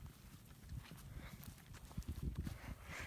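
Horses' hooves clip-clop on the ground in an uneven, shuffling rhythm, moderately close and fairly soft, with a faint rustle of movement and no talking.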